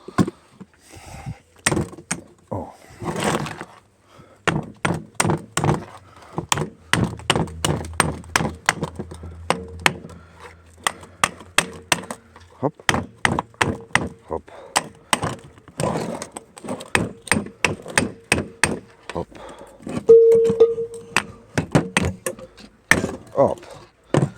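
Hammer blows ring out while a generator unit is dismantled by hand, a long run of sharp metallic strikes, at times quick and steady, at times spaced, close and loud in a workshop setting.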